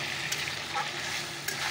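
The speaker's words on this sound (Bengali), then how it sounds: "তো চলো এবার চিকেনটাকে ভালো করে কষিয়ে নিই।" Chicken pieces stir-fried with spices, turmeric among them, in a pan, giving a continuous moderate sizzle with a couple of brief scraping stirs.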